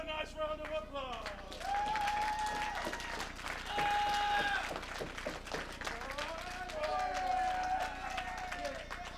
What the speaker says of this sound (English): Will you guys give us a nice round of applause?